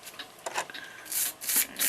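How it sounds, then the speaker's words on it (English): A brass brush scrubs clock movement parts wet with water-based ammoniated cleaning solution, giving close, raspy rubbing strokes in uneven bursts that grow longer and louder toward the end, with no talking. "I just use a brass brush"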